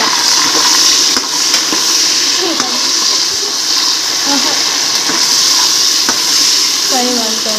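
Biryani ingredients with tomato fry in a pan, giving a steady, loud sizzle throughout with occasional faint clinks and stirring scrapes.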